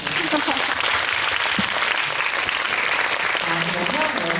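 Clapping from a cinema audience at a live film talk event fills the hall, a loud, dense and unbroken burst of many hands with faint voices mixed underneath.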